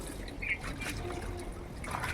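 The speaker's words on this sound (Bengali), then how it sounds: "এখন থালা বাসন কয়েকটা, ওইগুলি ধুয়ে" Water trickles and splashes steadily while a few dishes are rinsed and washed at a sink, with faint clinks of plates under the continuous flow and no talking.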